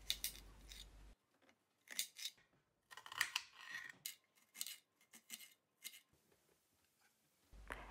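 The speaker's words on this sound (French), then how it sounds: "Pour la deuxième garniture, il suffit de couper un oignon" A knife slices through an onion in quiet, crisp bursts of cutting separated by pauses, recorded close and very soft with no speech.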